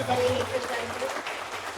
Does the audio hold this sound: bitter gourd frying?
no